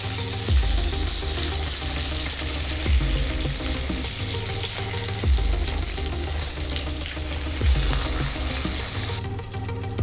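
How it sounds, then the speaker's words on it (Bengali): Pabda fish fry in oil in a covered pan with a loud, continuous sizzle. Occasional thumps and clatters come from the fish being turned, and no one speaks. "আবারও একটু এপিট ওপিট করে দিচ্ছি, যাতে মাছগুলো ভালো করে ভাজা হয়"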